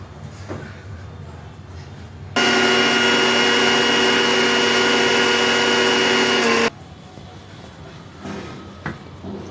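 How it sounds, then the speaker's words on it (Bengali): An electric kitchen grinder pulverises about 200 grams of sun-dried mustard seeds into fine powder for kasundi: a loud, steady high-pitched roar runs for roughly four seconds, starting and stopping abruptly amid quieter household background sounds. "200 গ্রামের মতো সর্ষে আছে, আমি এটা গুঁড়িয়ে নেব"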